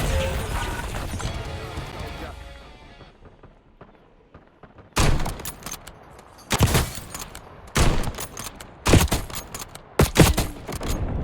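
Bursts of gunfire in the shooter game Black Ops 6, several loud, sharp volleys in the second half, separated by brief pauses, after a quieter stretch with game voice lines.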